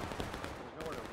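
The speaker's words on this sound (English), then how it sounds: "Nice little volley there by the 8th Georgia" A musket volley in the War of Rights Civil War video game, heard as a brief dense crackle of gunfire mixed with a speaking voice.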